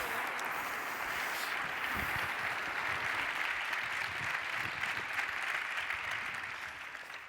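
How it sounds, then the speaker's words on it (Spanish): Applause from a conference audience at the T3chFest tech event, a dense, even patter of clapping hands held steady for several seconds before tapering slightly at the end. "Así que recibamos un fuerte aplauso a las tres protagonistas de hoy."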